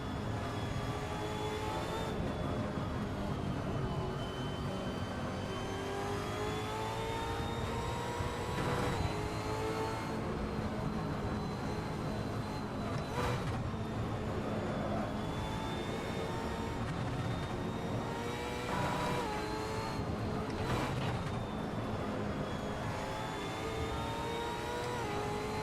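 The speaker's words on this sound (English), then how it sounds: "If that car had a voice, this is what it would sound like." A race car engine in Assetto Corsa lapping the Nordschleife at night, revving hard and continuously with rising and falling pitch and gear changes, loud and steady with no talk over it.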